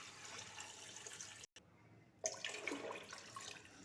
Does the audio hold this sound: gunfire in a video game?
no